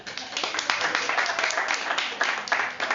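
Audience applause fills an indoor class session, a dense, steady patter of many hands clapping at moderate loudness, with some voices mixed in.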